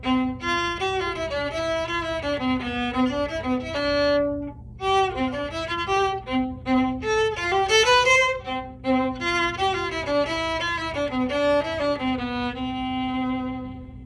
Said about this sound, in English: Let's listen to how the viola sounds.